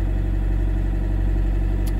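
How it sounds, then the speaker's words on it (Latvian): A steady, low idle from an Opel Zafira B car engine hums close and continuous with an even, slightly rough pulse and no talking. "pēc tā, kā rūc motors"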